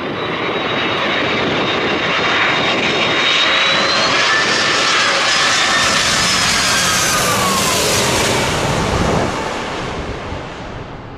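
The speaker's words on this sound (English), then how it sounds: "This Airbus A300 landing in crosswinds with a bounce." An Airbus A300 airliner lands in crosswinds and bounces on touchdown. A loud, sustained jet roar mixes with wind rush, staying heavy throughout before easing slightly near the end.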